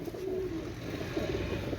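Pakistani pigeons coo softly in low, brief phrases over a steady, muffled background hum.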